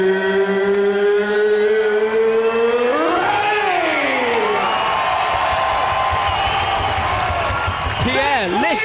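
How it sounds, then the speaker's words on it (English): A crowd roars and cheers in a fight arena in Birmingham, England, at a BAMMA 4 mixed martial arts event, the loud, sustained din running under a booming, drawn-out announcer's voice. "Pierre, listen to that crowd"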